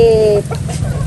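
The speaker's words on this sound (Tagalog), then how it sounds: "Mga manok." Chickens cluck close by at a rural fish pond in a short burst, following a brief high tone, over steady low background noise.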